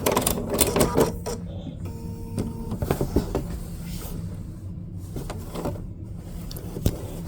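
Sewing machine stitching fusible raw edge appliqué on a quilt, a close, steady mechanical whir running in short bursts with small clicks and handling noises between runs.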